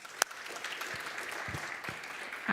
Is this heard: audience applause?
yes